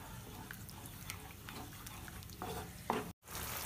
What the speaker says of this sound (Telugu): ఈ సాస్లో ఈ వెజిటబుల్స్ అన్నీ 1 నిమిషం ఉడకాలి